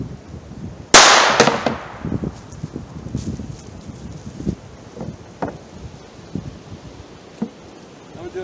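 A single sharp gunshot from an NAA mini revolver firing .22 long rifle into 2x4s, close and loud, followed by rustling and handling noises outdoors.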